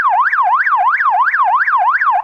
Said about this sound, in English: The second one is a siren.